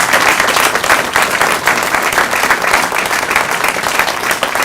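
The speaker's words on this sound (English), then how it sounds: "And can we just have another round of applause for Angela?" An audience at a commemorative plaque unveiling applauds a performer, a loud, sustained wash of many hands clapping that stays even throughout, close and dense.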